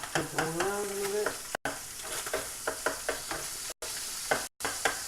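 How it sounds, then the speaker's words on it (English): A spatula stirs an omelet mixture around in a hot frying pan, with a continuous sizzle broken by repeated sharp scraping strokes against the pan. "Mix it all around a little bit."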